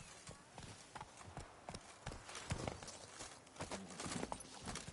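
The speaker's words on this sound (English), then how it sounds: "Even a horse drops if you ride it at a constant gallop." A horse gallops in The Witcher 3 on PS5, steady rapid hoofbeats thudding close and loud throughout, with a faint snort among them.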